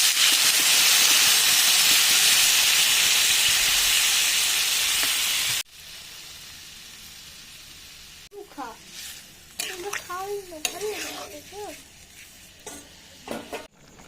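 Water poured into a hot pan of jackfruit and shrimp curry sets off a loud, steady hissing sizzle that cuts off abruptly, followed by quieter stirring and kitchen clatter with a voice talking over it.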